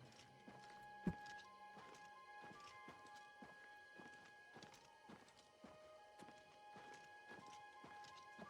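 Horse hooves clip-clop at a steady walking pace in The Elder Scrolls IV: Oblivion Remaster, faint and fairly close, with a brief louder thump near the start and soft game ambience underneath.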